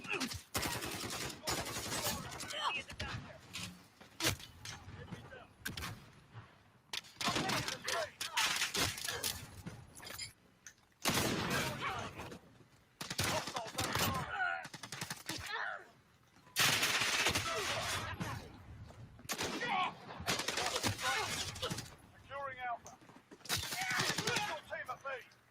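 Video game gunfire rattles in rapid bursts and single cracks, loud and close, broken by brief pauses, with other game noise and voices mixed in.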